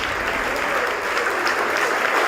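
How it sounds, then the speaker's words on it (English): Sustained audience applause and a standing ovation at an award ceremony honoring a Kindness Hero of the Year winner, dense steady clapping from a large crowd throughout, even and continuous. "A standing ovation for the people Foy called to stand at the podium with him"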